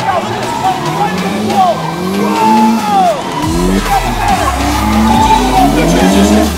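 A drift car at full throttle at a drift and road show in Malta, engine roaring and rising as the tires squeal and skid in long sweeping wails, loud and close, with a voice talking over it.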